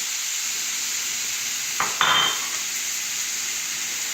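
Mushrooms hit a hot pan for a cheese steak, a brief scrape and stir rising over a steady background sizzle, close and moderate in level.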